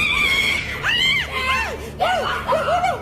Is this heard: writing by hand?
no